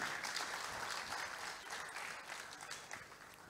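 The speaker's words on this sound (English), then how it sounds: "clap for yourselves for coming." Loud applause from a roomful of people fills the space, strongest at first and then gradually thinning out as the clapping winds down.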